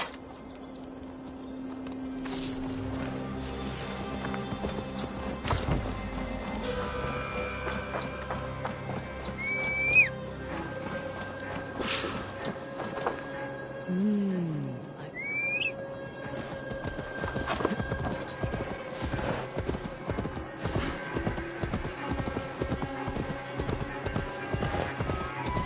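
Horse hooves clip-clop in the Assassin's Creed Valhalla video game, a steady walking rhythm that quickens into a dense trot, with occasional neighs and whinnies and game ambience layered underneath.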